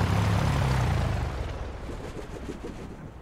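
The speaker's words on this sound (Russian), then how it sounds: "И только потом глушим двигатель." A simulated Cessna 172S piston engine in X-Plane 12 winds down from a loud, steady drone to a weaker, uneven chugging with fading propeller beats, heard close and alone.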